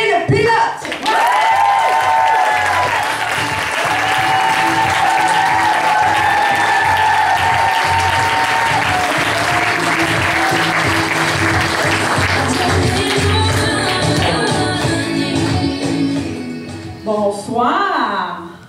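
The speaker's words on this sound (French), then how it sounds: "je vous demanderai de l'applaudir chaleureusement, de l'accueillir avec amour" Comedy-show audience bursts into sustained applause and cheering to welcome comedian Marie-Christine Pilote to the stage, loud and dense throughout with music playing along, fading near the end.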